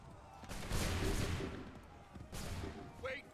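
Musket volley from a line of soldiers in Assassin's Creed 3 Remastered: two broad, crackling bursts of massed gunfire, the first longer and louder, the second shorter, with a faint shout at the end.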